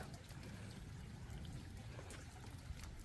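Rainwater flows and trickles continuously in a garden during rain, a soft, even, low wash of running water with no voices.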